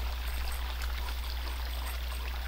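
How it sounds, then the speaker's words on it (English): Muddy water pours steadily from a pipe into a farm pond, a continuous broadband rushing and splashing that holds even and close throughout, with no voices over it. "It's still flowing out of our pipe."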